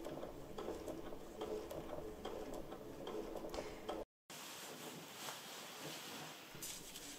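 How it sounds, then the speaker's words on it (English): Sewing machine stitching along a fringe edge, producing a fast, steady, faint ticking mechanical patter that runs throughout, broken only by a very brief cut partway through. "So now we're going to sew along and secure that edge of the fringe"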